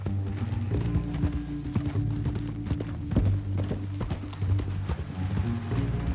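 Rhythmic clip-clop of horse hooves at a steady gallop over a low rumbling backdrop in the video game Red Dead Redemption 2, continuous and fairly close, no voices.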